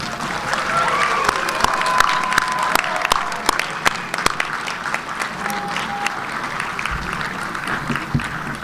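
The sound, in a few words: graduates applauding their family and friends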